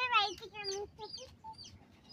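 Village chickens cluck in short, bright bursts close by, several calls in quick succession over a low background murmur, with rain starting.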